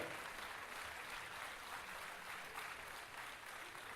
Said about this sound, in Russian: Еще раз аплодисменты Зульфие